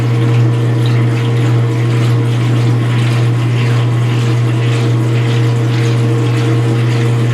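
A Speed Queen C Series washing machine fills with water for its rinse, making a loud, steady pump-like hum with a continuous rushing wash of water beneath, unbroken and close, with no speech.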